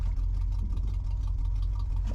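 A 1982 Ford Bronco's 351W V8, revived after sitting for years, idling steadily in gear with a deep, even low rumble heard up close.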